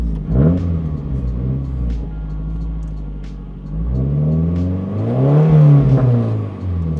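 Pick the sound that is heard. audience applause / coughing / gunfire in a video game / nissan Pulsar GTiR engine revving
nissan Pulsar GTiR engine revving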